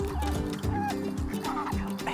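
Ducks at a pond quack and chatter in a steady stream of overlapping calls, close by and fairly loud, with no talk over them.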